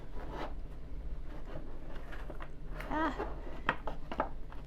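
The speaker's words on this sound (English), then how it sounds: "Let me shuffle one more time." Soft rustling and riffling of tarot cards being shuffled, continuous and close, with a few brief snaps and a low hum underneath.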